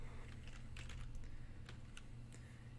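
Typing on a computer keyboard while using Windows 10, a quick run of light clicking keystrokes, faint and close, over a low steady background hum, with no talk.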